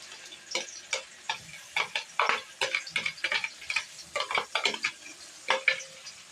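Chopped ginger and garlic stirred in a frying pan with browned onion: a steady run of sharp scraping and clacking strokes from the spoon against the pan over a faint sizzle, close and fairly quiet, with no talking.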